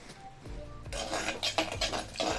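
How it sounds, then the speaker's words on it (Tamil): Garlic being pounded by hand in a home kitchen while cooking lunch, a series of close, uneven knocks and grinding rubs of a pestle crushing cloves. "வதங்கிறதுக்குள்ளார பூண்டு இடிச்சுக்கிறேன்."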